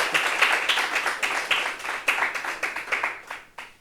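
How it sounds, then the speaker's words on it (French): Audience applause at a gathering about recovering from miscarriage, steady dense clapping for about four seconds that tapers off at the end, with no voices over it. "est-ce qu'on peut applaudir pour elle"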